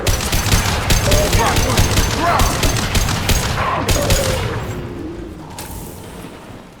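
Rapid weapons fire in the Mass Effect 2 video game, dense bursts of loud gunshots crackling almost continuously before tapering off near the end, with no talk over it.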